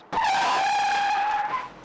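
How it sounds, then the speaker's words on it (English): A car brakes hard at 25 miles per hour and skids, tires letting out one loud sustained squeal that holds steady for about a second and a half before fading out. "The car easily breaks through the paper and skids 28 feet"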